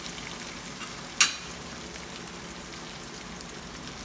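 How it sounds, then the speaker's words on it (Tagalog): Onion sautéing with golden-brown garlic in a frying pan gives a steady, dense sizzle, close and even throughout, with a single sharp clink of a utensil near the start and no talking. "Pag golden brown na yung bawang, lalagyan na natin yung sibuyas."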